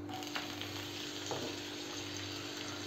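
Mustard seeds, chana dal, urad dal and chopped green chillies frying in hot oil, a faint even sizzle with a couple of soft pops, heard up close and without speech.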